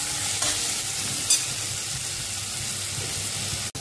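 Onion and tomato sautéing in a pan give a steady, close sizzle with scraping stir sounds, continuous throughout with a brief sharp knock near the end.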